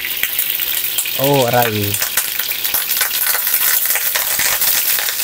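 Oil sizzles steadily in a hot pan on an Astron Powerheat1 infrared cooktop, a continuous close hiss with faint crackles, briefly interrupted by a person's short pained exclamation.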